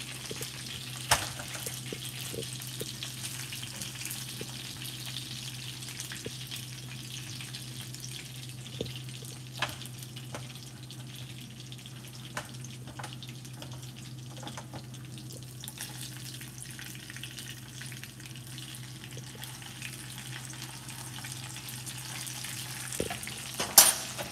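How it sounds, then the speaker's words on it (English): Food sizzles and fries in a pan, a steady low crackle with a faint hum underneath, punctuated by occasional clinks and stirring sounds, without talk. "I am cooking right now."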